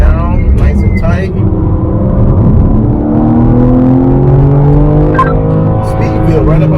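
A BMW M3 Competition xDrive laps the Road America race track, its engine note climbing loudly in pitch as it powers back on after a brief lift, with someone talking over the roar.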